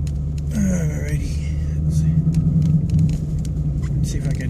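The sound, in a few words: 2015 Mustang GT with Magnaflow exhaust and FRPP X-pipe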